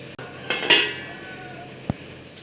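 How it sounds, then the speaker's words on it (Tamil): A metal lid clanks down onto a boiling pot of vatha kuzhambu, followed by a softer clink a moment later, close by in a quiet kitchen. "இப்போ இது எல்லாம் பச்சை வாடை போகிற அளவுக்கு மூடி போட்டு கொதிக்க வச்சிடலாம்"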